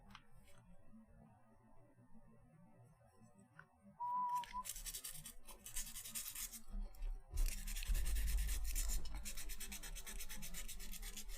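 After a quiet start, steady rhythmic strokes of sanding a sculpture begin and continue, close and fairly loud, with a brief pause before resuming more intensely.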